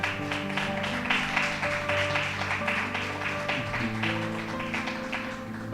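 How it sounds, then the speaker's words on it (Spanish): A church congregation applauds the Lord during worship, with continuous clapping spread under sustained instrumental music that carries on throughout. "Denle un aplauso al Señor"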